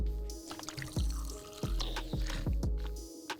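Gulps of water being swallowed during a short drinking break, a series of close, distinct swallowing pulses at a steady rhythm with no talking.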